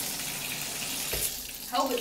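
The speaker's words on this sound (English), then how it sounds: "I'm adding bath water to this." Tap water pouring steadily into a bathtub at 1 a.m., a constant close rushing and splashing that fills the whole stretch, with brief faint sounds near the end.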